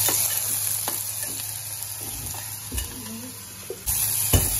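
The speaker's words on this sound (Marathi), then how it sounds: "आणि तेलामध्ये टाकलाय कांदा, लसूण" Onion, garlic and a ground chilli paste fry in hot oil, a steady close sizzle with a low hum underneath and a few soft scrapes of a spoon, with no talk.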